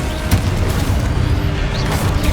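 A loud, low, rumbling explosion from the Confringo blasting spell in Hogwarts Legacy, sustained and booming across the whole moment with no clear gaps.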